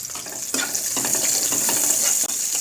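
Chopped onion sizzles steadily in hot oil in a pan for a cauliflower dal, a loud continuous frying hiss with occasional stirring scrapes and no talking.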